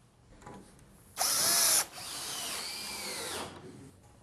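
Cordless drill driving screws through hidden fastener clips into deck boards, a close high whine bursting loudly for under a second, then a steadier lower run that winds down.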